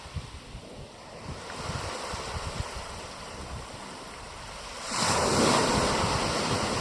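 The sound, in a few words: waves breaking on a beach in southern Ireland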